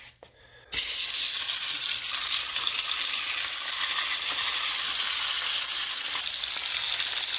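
Country ribs sear in a pan over nearly high heat. A loud, dense sizzle bursts in after a brief quieter moment and roars on steadily without a break.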